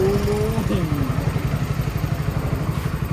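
A motorcycle engine putters with a rapid, even chugging rhythm, close and steady, with a brief rising whine near the start.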